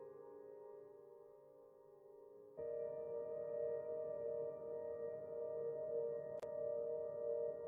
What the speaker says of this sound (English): That's the reverb. It froze it in time.